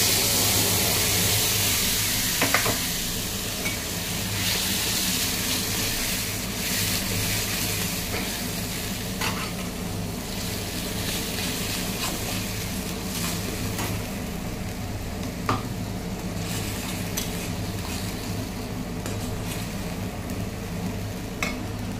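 Spice paste fries in hot oil in a wok with nigella seeds for a tomato pabda fish curry, a continuous close sizzle with occasional stirring scrapes and pops and no talking.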